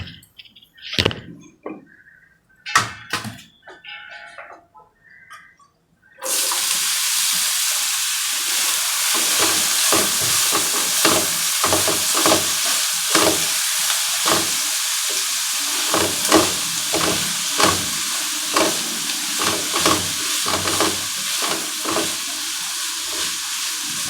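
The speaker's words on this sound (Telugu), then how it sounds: "ఇది కొంచెం దూరగా వేయించుకోవాలండి, కొంచెం మెత్తగా పడేదాకా" Chopped bottle gourd frying in a pan until soft: a few spoon clatters and taps, then a loud continuous sizzle with rhythmic stirring scrapes throughout, close by and without talk.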